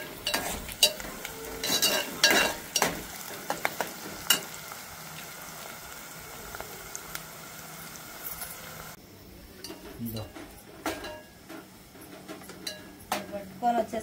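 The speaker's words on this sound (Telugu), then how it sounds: "పట్టుకొని వచ్చేసరికి ఫ్రై అయింది కరెక్ట్గా." Ground spice paste for a brinjal curry fries in a pan, with a steady low sizzle under repeated scraping and clinking stirs, busier in the first half and sparser later.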